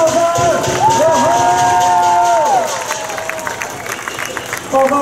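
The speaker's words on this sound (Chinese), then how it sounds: "来，掌声加尖叫声！" A crowd at the Hsinchu City God temple's Ghost Festival procession cheers and screams, a sustained dense roar with shrill voices rising above it, loud and close, dipping slightly before a fresh swell at the end.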